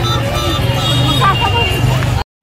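Festival crowds murmur continuously at the Dagdusheth temple square in Pune during Ganpati celebrations, a brief, dense wash of overlapping voices with a low traffic rumble underneath.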